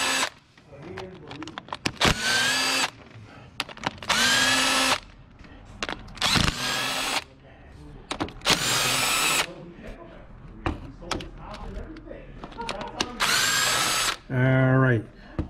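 A power driver spins out 10mm-head, 6mm valve cover bolts on a 2004 Lexus ES330 in a string of sharp whirring bursts, each bolt a separate rev, with brief talk and quieter gaps between them.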